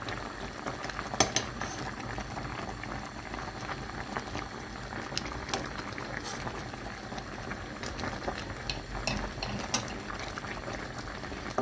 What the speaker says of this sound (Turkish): Arkadaşlar kaynamaya başladı gördüğünüz gibi.